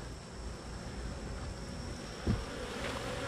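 Honey bees hum and buzz steadily in an open hive in July, a dense continuous drone with one brief louder swell midway.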